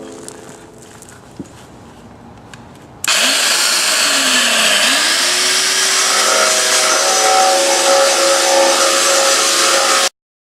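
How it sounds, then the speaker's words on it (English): An angle grinder with a worn-down grinding wheel scrapes thick paint off metal for a homemade camp stove, starting abruptly after a quiet stretch and running loud and continuous, its pitch dipping under load before steadying. "I'm going to hit it first with what little bit of a grinding wheel I have left on this grinder"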